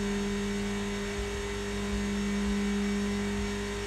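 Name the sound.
car engine revving in the video game Gran Turismo 2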